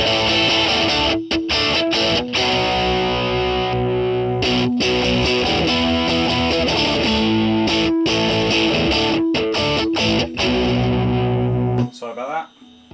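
A Fender 77/78 Stratocaster electric guitar plays loud, sustained distorted rock chords and riffs through effects, with brief gaps between phrases, before cutting out near the end.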